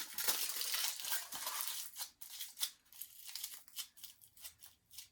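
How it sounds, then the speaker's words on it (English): Tin foil is scrunched into a small ball by hand, with close crinkling and crackling that is dense at first and then breaks into separate crisp crumples and rustles. "Now grab your 2nd piece of foil. Scrunch that up, wrap it around, starting to form a little ball right at the top."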